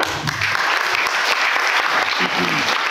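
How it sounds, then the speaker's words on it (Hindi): Loud applause from an audience, a thick, continuous wash of clapping with a voice briefly audible beneath it. "जोरदार तालियां"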